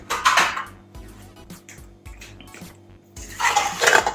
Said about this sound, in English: Now we'll mix it again just to make sure all the spices and the veggies are mixed with the meat